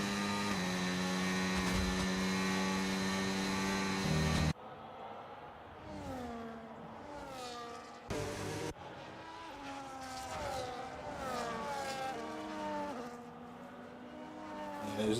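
F1 race cars crossing the line during China sprint qualifying in a racing video game: a steady high engine whine first, then several cars rise and fall in pitch as they sweep past one after another.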